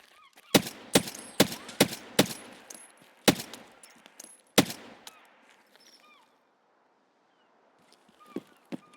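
Gunfire in Escape from Tarkov, a string of about eight sharp, loud single shots at irregular intervals over several seconds, followed by near silence and faint distant sounds.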